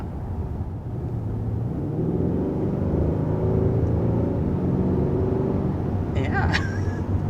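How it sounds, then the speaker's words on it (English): A 2021 Hyundai Sonata N-Line, 290 HP 4-cylinder in sport mode, hums as a steady, deep engine drone throughout, with a brief high chirp near the end and no clear revving. "especially when you put it in sport mode, there's really a deep tone that's surprising for a 4-cylinder"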